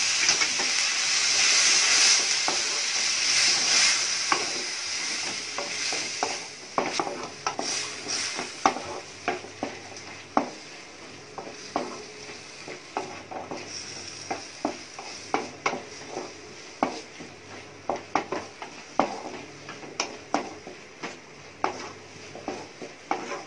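Onions and tomatoes sautéing for chana masala, a steady hissing sizzle with frequent sharp scrapes and taps of a spoon stirring in the pan, close and continuous without talk.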